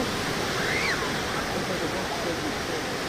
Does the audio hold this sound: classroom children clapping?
no